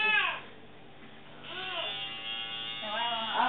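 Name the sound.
electric hair clipper running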